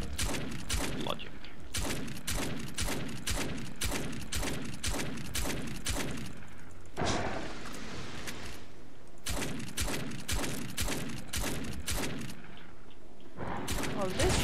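Rapid, loud shotgun blasts from ChaosNova fire in quick dense bursts, broken by a brief pause and a crashing impact, with players talking underneath.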